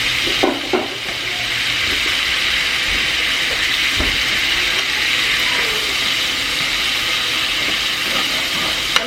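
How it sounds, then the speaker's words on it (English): Ingredients sauté in a hot pan with red wine added, producing a steady, close, full sizzle and hiss throughout, with a few light stirring clinks near the start. "I'm just going to kind of saute all this together for just a few minutes."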